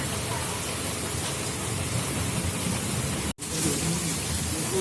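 Heavy rain pouring steadily in an Indian village, a dense, even hiss close by that holds throughout, broken only by a brief cut near the end.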